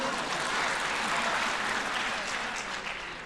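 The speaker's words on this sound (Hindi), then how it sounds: "इनके समाज में एक बार ताली बजा दो सब लोग" An audience at a Hindi comic poetry gathering breaks into sustained applause, a dense, even wash of many hands clapping that fades slightly toward the end, with no talk over it.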